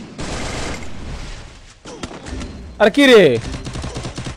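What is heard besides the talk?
gunfire in a shooting video game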